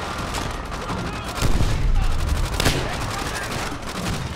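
Rapid gunfire from Call of Duty: World at War, loud and dense bursts of rifle and machine-gun shots rattling continuously with heavier booms mixed in, close and sustained throughout.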